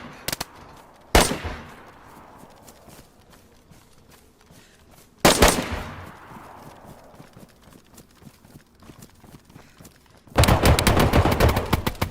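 Gunshots ring out in the video game DayZ: three loud, sharp reports with echoing tails spaced a few seconds apart, then a rapid burst of fire at the end, with light clicking and footstep-like taps between.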